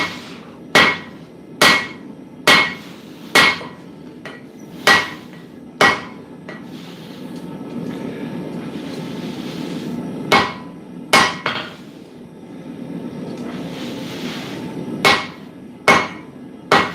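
Hammer blows ring out on square 1045 steel during forging, sharp metallic strikes in short bursts of several evenly spaced hits separated by pauses, close and loud over a low background roar.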